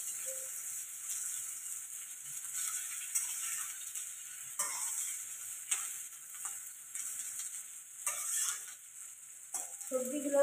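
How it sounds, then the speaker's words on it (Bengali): Vegetables for fried rice sizzle quietly in oil in a pan, a steady fizzing hiss with occasional clinks and stirring scrapes. "সবজিগুলো সব একটু ভাজা ভাজা হোক।"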